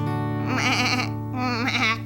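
A voice imitates a goat's bleat, two long wavering, quavering bleats in close succession, loud and near, with no other sound around them.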